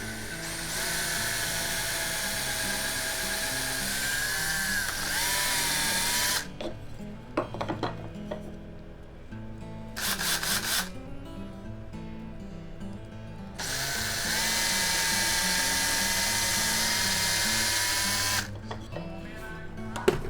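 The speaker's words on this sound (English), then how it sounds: "get a drill" Holes are bored in a side bender with a power drill, heard as long loud runs of steady motor whine separated by brief pauses and short bursts, all close by with no speech.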